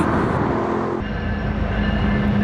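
Two Union Pacific locomotives rumbling past on a joint line near Denver, a steady, close diesel drone with rail noise and no voices.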